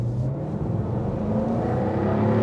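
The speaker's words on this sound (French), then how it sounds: "on a étouffé un peu l'échappement, mais tu as quand même les petites pétarades qui sont présentes à l'oreille" Jaguar F-Type two-wheel-drive sports car with a somewhat muffled exhaust, its engine note climbing steadily under acceleration, loud and close, with no voices.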